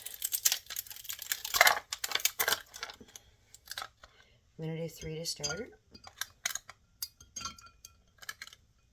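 Ice cubes dropped into a glass of water give a series of sharp clinks and rattles close by. Someone speaks briefly between them, and a few lighter clinks follow.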